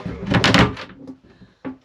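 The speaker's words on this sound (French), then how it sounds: "Les portes fermes." Cabin doors on an Océanis 393 sailboat swing shut with a soft wooden knock and a brief rattle, followed by a second sharper close, nearby and distinct.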